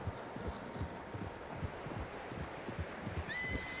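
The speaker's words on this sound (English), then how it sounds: "Horses, quite a few of them." Faint hoofbeats of several horses in the video game Red Dead Redemption 2 thud at a steady gait over a low rumble, with a distant high whinny near the end.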